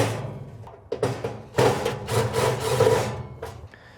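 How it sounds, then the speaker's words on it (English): Corner screws are loosened on a Camp Chef XXL Pro, with a screwdriver grinding and rasping against metal in a few short close bursts separated by brief pauses. "You'll then need to unscrew each one of these 4 screws in the corner."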